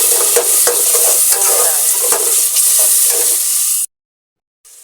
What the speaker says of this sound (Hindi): तो गाइस इसमें हमें टमाटर डाल के थोड़ा सा ज़रा चलाना है ताकि टमाटर बैठ जाए